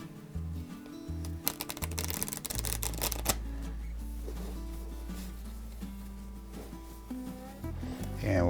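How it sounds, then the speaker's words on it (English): A deck of playing cards gets riffle shuffled during a card magic trick, giving a quick fluttering burst of card snaps. It runs over a steady low musical bed, with no talking. "And we'll have them riffle shuffle one more time."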